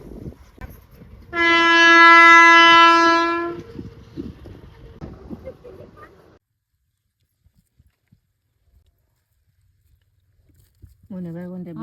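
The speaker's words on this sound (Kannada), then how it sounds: "ಬಂತ ನೋಡ್ರಿ ಟ್ರೈನ್" A loud train horn blares for a couple of seconds amid rumbling and voices, then things fall quiet before another horn sounds at the end.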